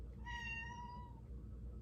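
An indoor house cat gives a single drawn-out meow, clear and close, in a quiet room with a faint background hum.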